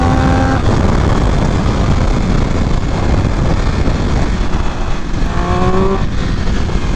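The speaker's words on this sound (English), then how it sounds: "that triple cylinder engine sounds so good, man." Triumph Speed Triple 1200 RR triple-cylinder motorcycle engine heard up close and loud while riding, a dense roaring drone with rising tonal revs at the start and again near the end.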